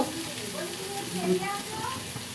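Potatoes fry with spices in a pan, giving a soft, steady sizzle with occasional stirring scrapes, close and fairly quiet.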